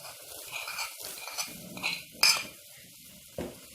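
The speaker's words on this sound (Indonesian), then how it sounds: "Kemudian diaduk." A brew of ginger, lemongrass and palm sugar is stirred in a pot, a spoon scraping and clinking against the metal in a few short strokes, quiet and close over a faint simmer.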